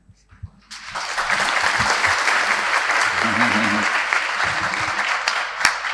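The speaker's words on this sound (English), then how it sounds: "I do not wish for this big applaud" After a lecture at an ISKCON Sunday feast class, an audience breaks into sustained applause that holds steady for several seconds, with a few voices murmuring underneath.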